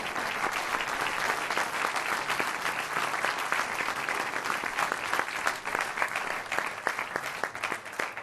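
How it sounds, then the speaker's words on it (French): A crowd at a biker school event by the Lacs de l'Eau d'Heure breaks into loud, sustained applause, dense continuous clapping that holds steady throughout without letting up. "Je les invite à nous rejoindre sous un tonnerre d'applaudissements"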